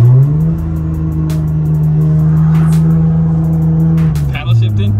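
A car engine holds a loud, close, steady roar at high revs while paddle shifting, then dips sharply and climbs again near the end, with voices talking over it.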